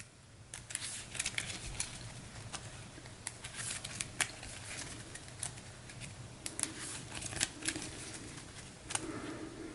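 Playing cards being shuffled into a deck during a tabletop card game session, a steady run of soft riffling and snapping clicks up close, with no one talking.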